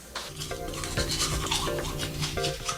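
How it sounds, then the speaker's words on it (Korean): Toothbrush scrubbing teeth quickly and forcefully, a rapid, steady back-and-forth bristle rasp with rhythmic strokes, close and alone, no talking. "칫솔질은 힘주어서 빠르게 하는 편이다."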